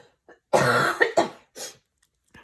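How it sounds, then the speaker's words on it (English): A single harsh cough followed by a couple of smaller throat-clearing coughs, close and loud against near silence. "Sorry, I'm going to cough."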